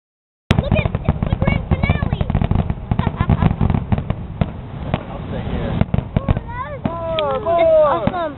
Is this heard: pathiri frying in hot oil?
no